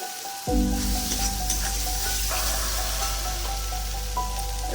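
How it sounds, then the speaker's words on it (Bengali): Tomatoes that have been cooked down for three minutes sizzle in released oil in a pan for a vegetarian paneer masala, a loud, steady close frying hiss starting abruptly and continuing without voices. "টমেটোটা তিন মিনিট ধরে কষে নিয়েছি তেল ছেড়ে দিয়েছে টমেটো"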